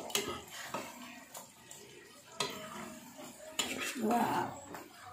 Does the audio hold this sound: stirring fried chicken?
yes